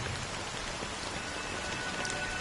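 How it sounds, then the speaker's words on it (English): Continuous rain in Honkai: Star Rail hisses evenly across the whole stretch, a dense wash of droplets with no talking and no breaks. "But it's still raining."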